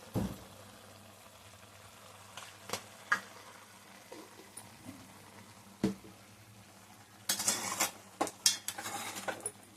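A ladle stirs salt into a pot of country chicken curry, giving quiet, scattered metallic clinks and scrapes against the pot, with a brief busier burst of clatter near the end and no talking.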